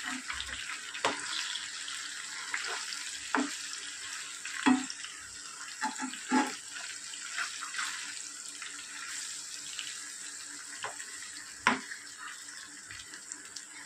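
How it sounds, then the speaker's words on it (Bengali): Pomfret fish frying on a tawa, a steady soft sizzle running throughout with occasional sharper crackles and spatters, close and moderately quiet, with no talking. "তো চলুন, আবারও এটা খুব ভালো করে ভেজে নিই"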